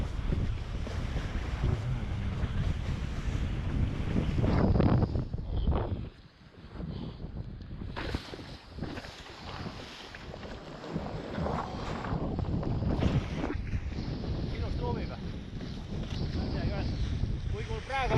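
Gusty, buffeting wind while kitesurfing with North Reach and North Orbit kites, loud rumbling wind noise on the microphone rising and falling in surges, with a brief lull midway and water rushing beneath.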